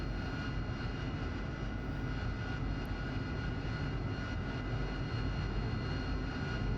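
Steady jet aircraft engine drone while taxiing toward a runway in a combat flight simulator game, loud, continuous and unvarying throughout with no speech over it.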